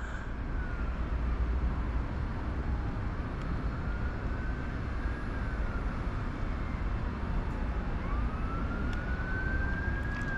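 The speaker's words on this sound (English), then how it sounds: "Got police coming past, can you hear the sirens?" Police car sirens pass at a distance, wailing up and down in slow sweeps over a constant low background hum for about ten seconds.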